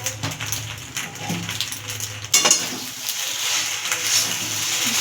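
Egg pasta is stirred in a pan on medium heat, giving a steady close frying sizzle with soft scraping stirs and one sharper clatter partway through.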